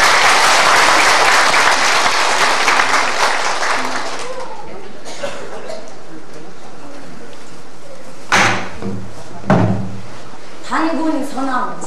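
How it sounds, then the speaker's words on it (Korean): Enthusiastic audience applause for a pansori singer fills the hall loudly for about four seconds, then fades into scattered claps and a few sharp knocks amid quiet room noise. "우리 허원선 명상을 다시 한번 큰 박수로 청하겠습니다."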